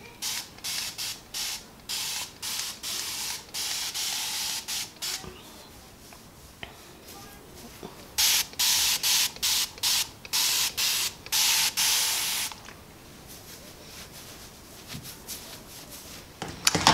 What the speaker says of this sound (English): So I'm taking just a spray bottle